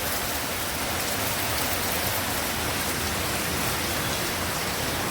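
Heavy rain pours down in a steady, unbroken roar during a multi-day low-pressure monsoon downpour, loud and close throughout with no voices.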